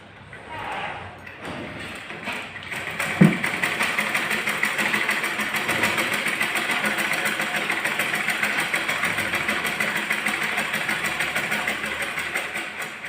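A sewing machine stitching a 30-inch blouse starts up after a brief pause and runs in a steady, fast, rhythmic whir, close and continuous to the end.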